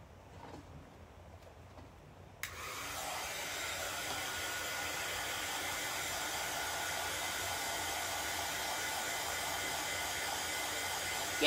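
A hair dryer in a home kitchen switches on after a quiet moment and runs as a steady, loud, even blast of air.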